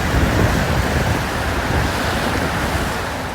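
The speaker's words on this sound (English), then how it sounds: "Here's what the Cedar River sounded like rushing past the Renton Library today." The flooded Cedar River rushes past the Renton Library, a loud, steady roar of churning water with no breaks, close and filling the air.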